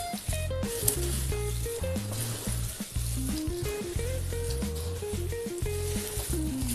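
Fried poha and puffed rice are tossed together for chiwda in a pan, a continuous dry rustling and scraping, with music playing loudly throughout.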